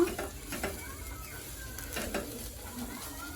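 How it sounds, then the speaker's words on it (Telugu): Tender tamarind leaves fry in oil left from frying chillies, giving a soft steady sizzle with occasional clinks and scrapes of stirring in the pan. "అదే మనం మిర్చి ఫ్రై చేసిన ఆయిల్లోనే చింత చిగురు ఫ్రై చే ఫ్రై చేసుకుందాం"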